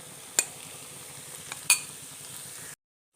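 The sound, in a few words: stirring and frying egg in a pan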